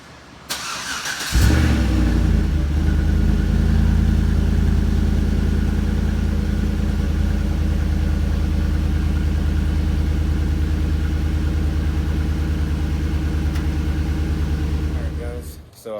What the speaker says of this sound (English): Let's see what that cold start sounds like.